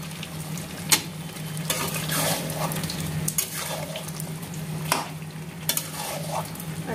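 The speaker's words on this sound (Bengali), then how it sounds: "এখানে তো চিকেনটা কষাচ্ছি, আলুগুলো দিয়ে দিচ্ছি।" Chicken pieces and whole potatoes being stir-fried in a pan, with a steady sizzle and repeated scraping strokes of a spatula at close range, no voices.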